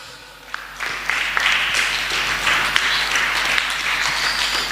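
Sustained applause from a children's Sunday school class at church, many hands clapping together close by, rising after a quiet start and holding steady for several seconds.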